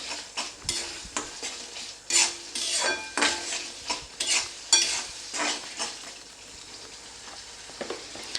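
Masala for aar fish kalia is stirred and sautéed in a pan: repeated scraping strokes of a spatula against metal punctuate a low, continuous sizzle, close and moderately loud.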